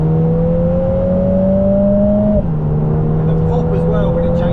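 Lotus Emira sports car engine revving steadily, then a clean gear change with a drop in pitch as it keeps accelerating, loud and close, with talk over it.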